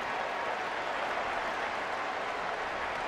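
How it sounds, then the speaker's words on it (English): A large stadium crowd at a Clemson at Maryland college football game at Byrd Stadium applauds at halftime, a broad, steady wash of distant clapping and crowd noise with no distinct individual claps. "they get a nice round of applause from this Bird Stadium crowd"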